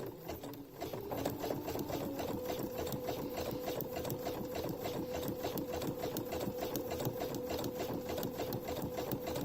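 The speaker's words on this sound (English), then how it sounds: "I'm going to sew a zigzag stitch just catching the edge of the fabric here across" A sewing machine runs a zigzag stitch along the edge of fabric, giving a steady, close, rapid mechanical whir with an even, fast needle rhythm. It continues alone, without any talking.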